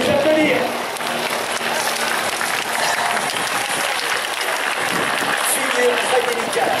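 Air show crowd applauds a mirror-formation aerobatic pass, one plane inverted above another. The clapping is loud, dense and continuous, with faint voices mixed in throughout.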